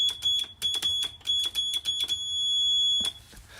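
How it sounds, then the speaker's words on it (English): A small built-in alarm inside an elevator rings a piercing, high electronic tone in rapid repeated pulses, then holds one longer continuous beep before a final short burst, close and loud with no talking. "It has a little alarm in it."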